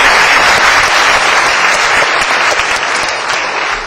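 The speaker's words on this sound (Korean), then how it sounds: "다시 한번 큰 박수 부탁드립니다." A large audience at a university debate competition final applauds a judge who has just been introduced, producing steady, dense, loud clapping that continues without break and carries no talk.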